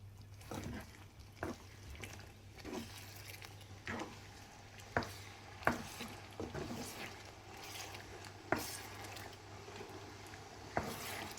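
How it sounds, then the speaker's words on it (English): Chicken jalfrezi with large-cut red peppers and tomatoes being stirred into a spicy curry base: a run of soft, wet squelches and scrapes at an uneven rhythm, close and moderately quiet, with a low steady hum underneath. "Give them a good mix with the curry base."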